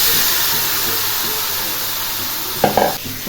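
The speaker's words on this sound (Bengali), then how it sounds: "এবার মাংসটা ঢেলে দেবো।" Marinated meat hits fried onion, garlic and tomato masala in a hot pan, a loud steady sizzle running throughout, with a brief clatter and stirring near the end.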